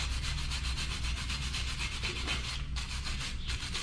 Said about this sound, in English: So we use a wire brush